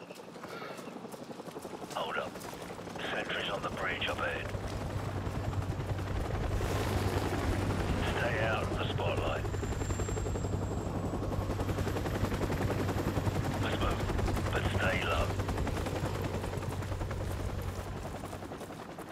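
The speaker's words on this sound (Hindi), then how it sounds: "तो फिलहाल अभी हमें हेलीकॉप्टर से बचते हुए भागना है यहाँ से" Helicopter rotor drone with bursts of gunfire in the video game Call of Duty: Modern Warfare Remastered, a steady loud whir under repeated rapid firing, with someone talking over it.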